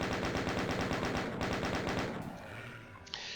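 Loud, rapid chaingunner machine-gun fire from the video game DOOM rattles in a steady stream for about two seconds, then cuts off and leaves quieter game ambience.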